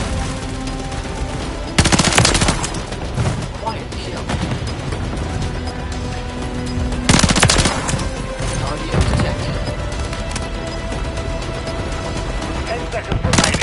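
Call of Duty Modern Warfare 3 multiplayer gunfire rattles continuously through the clip, with heavier bursts of shots near the start and around the middle, all loud and dense over busy game noise.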